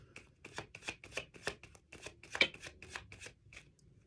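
Tarot cards being shuffled close by: a quiet series of quick riffling and slapping bursts in an uneven rhythm, with no talking.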